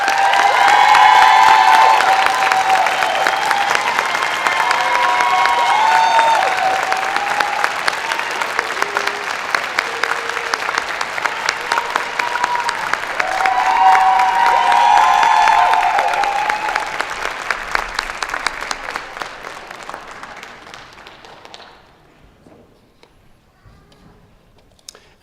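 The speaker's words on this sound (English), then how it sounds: "Graduates, a round of applause." Sustained applause fills a hall at a university convocation ceremony for the graduates, a dense wash of many hands clapping with some cheering, swelling mid-way before tapering off into near silence.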